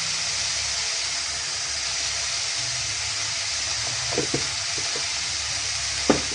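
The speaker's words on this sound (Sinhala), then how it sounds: "මේ විදිහේ මිරිස් කුළු ටිකක් දා ගන්න" Dried chili flakes sizzle in hot oil in a pan, a steady broadband frying hiss throughout with a few brief clinks or stirring knocks near the end.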